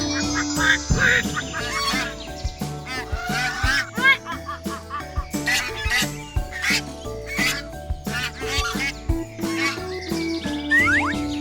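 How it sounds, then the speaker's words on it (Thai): Repeated duckling quacks and honks bounce over a bouncy musical backing, coming in quick, playful bursts. "นี่เจ้าลูกเป็ดตัวเล็ก ลูกเป็ดกาบกาบ"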